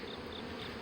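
Bees from a swarm being hived buzz steadily at close range, a dense continuous drone with a faint higher whine, and nothing else is audible through the brief moment.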